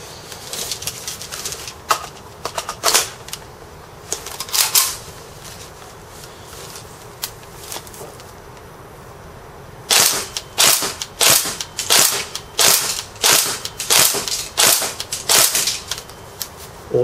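A Marui SOPMOD airsoft gun fires BBs from a PMAG magazine: scattered single snappy shots come first, then a fast run of sharp, evenly spaced cracks near the end.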